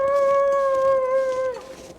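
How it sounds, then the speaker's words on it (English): A wolf in the survival video game The Long Dark lets out a single long, steady howl, clear and tonal, holding for about a second and a half before fading. "think there might have been a wolf up here before"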